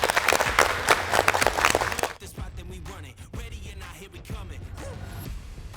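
A group in a girls' high school gym applauds at the start of a volleyball mini-game, a short burst of clapping that stops after about two seconds and gives way to quieter voices and room sounds.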